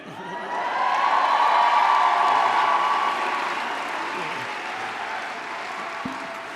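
Commencement audience at a spring undergraduate graduation ceremony bursts into sustained applause, swelling to a broad roar of clapping with faint cheers before tapering to a steady patter.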